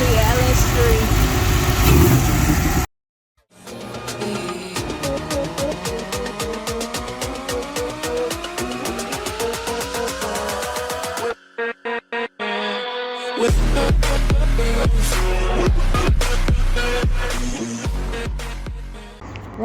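A Volvo 242 fitted with a swapped 6.2 litre LS3 V8 runs loud and close, with engine tone shifting through rising revs, cutting out briefly, then rumbling back in heavily.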